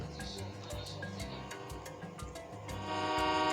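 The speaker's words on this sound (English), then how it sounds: "Oh no, it's a train. It's coming." A train in the video game TRAIN and RAILYARD approaches, rumbling with rhythmic clacking pulses as a horn-like tone swells toward the end, sounding like a game soundtrack effect.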